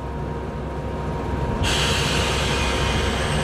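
A German passenger train bound for Norddeich starts to depart after its doors lock, giving a steady loud rumble with broad hiss that brightens midway, recorded nearby with no voices.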